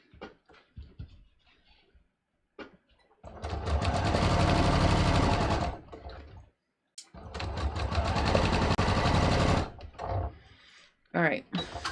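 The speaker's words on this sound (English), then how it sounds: "So I sewed that on." Sewing machine stitching denim jeans, running in two long, steady bursts of rapid stitching, close and loud, with brief handling clatter and short pauses between.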